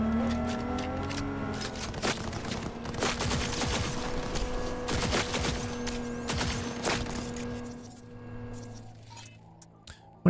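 Rapid bursts of gunfire crack through a gunfight in the video game Cyberpunk 2077, with clusters of sharp shots in quick succession over a low humming game soundscape, tapering off near the end.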